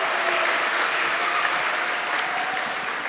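A crowd applauds and cheers throughout, a steady dense wash of clapping with scattered whoops, fairly loud and close, with no talking over it.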